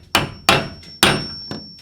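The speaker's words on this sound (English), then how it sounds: "then just take your hammer and pound it to lock it in place" A hammer taps a lock washer into place on a garage door roller with four crisp, ringing metallic strikes. The first three are firm and evenly spaced, and the fourth is lighter. No one speaks.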